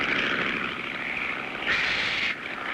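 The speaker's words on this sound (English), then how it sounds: "I hear an airplane." A 1959 cartoon airplane drones low overhead, a steady, loud propeller-engine hum that swells briefly near the end, with no voices.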